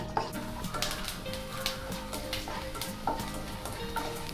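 Seeds roasting in hot ghee in a pan while being stirred, a steady close sizzle broken by repeated scraping and clinking strokes of the spoon against the metal.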